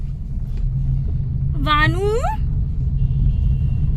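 A steady low rumble fills a moving car's cabin, holding constant throughout while a voice speaks briefly over it.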